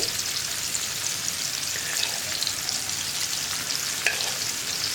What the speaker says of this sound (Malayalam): ഇത് സാധാരണ മീൻ വറുക്കുന്നത് പോലെ വല്ലാണ്ട് അങ്ങ് മൊരിഞ്ഞ് ക്രിസ്പി ആയി പോകേണ്ട ആവശ്യമില്ല